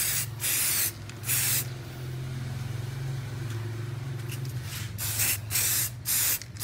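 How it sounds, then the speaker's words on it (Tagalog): Spray paint hisses from an aerosol can onto the front chrome grille of a Mazda 3 Skyactiv, loud close bursts of varying length with a steady low engine-like hum underneath. "Na yung spray paint."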